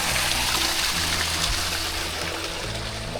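Water dumped out into a potato field pours in a steady, broad rushing wash, heard outdoors and close, loud and even for the whole stretch with no talking.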